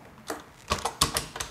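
Typing on a computer keyboard: a few quick, close key clacks in an uneven rhythm, fairly faint, with no voices.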